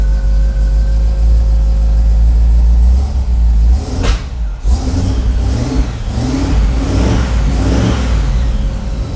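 A 1955 Buick V8 engine rumbles loudly, then cranks and catches at about four seconds before settling into a series of rising and falling revs, close up with no talk.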